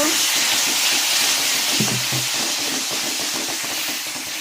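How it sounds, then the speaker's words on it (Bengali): Spices with chili powder sizzle steadily in a hot pan while being stirred for a mixed vegetable dal with fish head, a continuous close frying hiss with faint scraping throughout. "ভালো করে মশলাটাকে কষাবো আবারও একটু লঙ্কার গুঁড়ো দিলাম"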